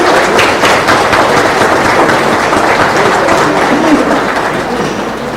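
Audience applauding at an 80th anniversary ceremony of a spiritist centre, a loud, sustained, dense clapping that fills the room evenly and eases off slightly at the end, with no talking over it.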